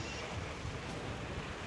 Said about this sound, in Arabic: انا مش سامعه غير بس صوت البحر